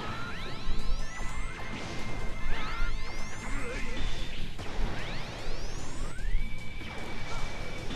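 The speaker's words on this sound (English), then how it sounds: "For a second, I thought they made a Dragon Ball Z sound effect." Mega Man X6 boss battle effects on Xtreme Mode, resembling a Dragon Ball Z energy blast: repeated rising whooshing sweeps over crashing impacts and steady rumbling game noise, loud and dense, with no talking.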